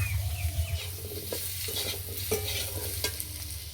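Diced potatoes sizzle and crackle in hot oil as turmeric and chilli powder go in, with steady close frying hiss and a few soft stirring clinks from a pan, no voices.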